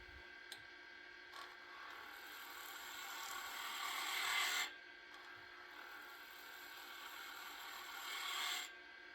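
A guitar string pressed against spinning wood on a lathe to burn in decorative lines on a tool handle: several sustained raspy friction hisses, each swelling and cutting off, close and fairly quiet, with no talking.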